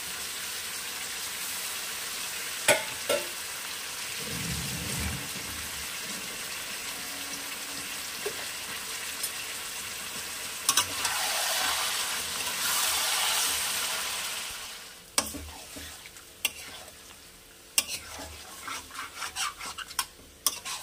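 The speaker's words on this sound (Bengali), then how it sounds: "এটা পুরো হাই ফ্লেমে আমি কষিয়ে নেব।" Shahi chicken korma sizzles and fries on high flame as a spoon scrapes and stirs the pan, a steady hissing rasp with occasional sharp clinks and louder bursts of sizzling.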